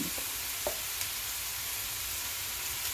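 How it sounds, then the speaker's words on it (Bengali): A ginger, garlic and tomato paste sautés in a pan for chicken bharta, giving an even, soft sizzle throughout with a few faint knocks from stirring. "এটাকে আমি ভালো করে কষিয়ে নিচ্ছি"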